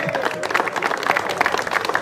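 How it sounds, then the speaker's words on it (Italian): Fans cheer and applaud at a mini slalom race in the town of Amendolara, Calabria, a dense, steady wash of clapping and crowd noise filling the whole moment without a break. "il tifo di Potenza si sente di più"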